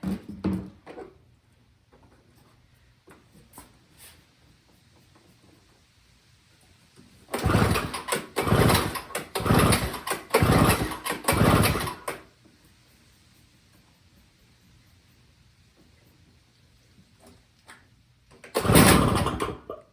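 A Snapper two-stroke snow blower engine is pulled and fires briefly. Several sharp cranking bursts and sputters sound up close over a few seconds, then a quiet lull, then another short loud burst near the end.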